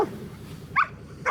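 A golden doodle and a German Shepherd on a farm with cows give two short sharp barks about half a second apart, close and loud against quiet outdoor ambience.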